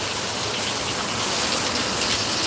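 Heavy monsoon rain pours in Deglur, a dense, steady hiss that fills the whole stretch and swells slightly toward the end, with no voices.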